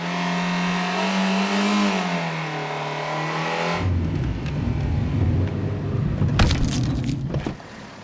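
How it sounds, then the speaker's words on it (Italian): A car engine hums and revs with a rising whine, then shifts into a rougher rumble with a sharp bump and rattle as it runs over a rabbit, before cutting off. "decisi di investire il suo stupido coniglio con la macchina di Tommaso"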